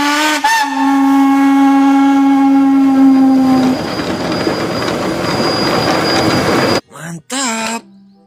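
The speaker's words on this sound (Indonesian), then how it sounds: "Wih, ada kereta api." A steam train sounds a long, loud whistle, then gives way to a broad hissing rumble of steam and wheels. A brief voice breaks in near the end.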